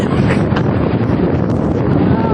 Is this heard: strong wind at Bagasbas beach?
yes